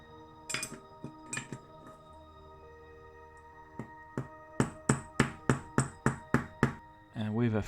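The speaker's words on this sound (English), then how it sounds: "I bought this little hammer and finally get to use it." A small hammer taps the die-cast roof of a Matchbox Ford Zodiac toy car: a few scattered light metallic clinks, then a quick regular run of about nine sharp taps, ending in a brief scrape.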